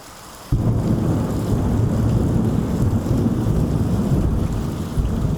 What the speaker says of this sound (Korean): 그러던 어느 날 천둥번개가 요란한 밤이었어요